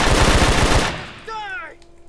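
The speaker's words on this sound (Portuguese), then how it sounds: "onde é que tá vindo esse tiro?" Rapid automatic gunfire in the GTA multiplayer video game rattles loudly for under a second, then cuts off into a faint, short whining tail.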